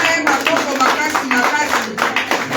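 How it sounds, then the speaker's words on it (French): A church congregation applauds and cheers loudly for Jesus, a dense continuous wash of clapping with voices shouting and calling out throughout. "Acclamez-le très fort encore."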